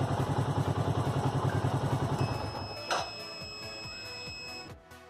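A motorcycle engine on an Arduino voice-controlled smart bike idles loudly with a rhythmic thrum, then shuts off around the third second, sputtering down through a few fading putters into quiet hum.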